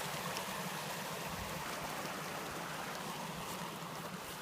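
Stream water flowing beside Starr Trail in mid-January: a steady, even rush of running water continues at moderate level, with no voices.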